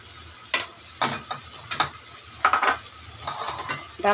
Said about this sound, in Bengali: ডাটা ভাজিটা একটু ঝাল ঝাল করে করবো।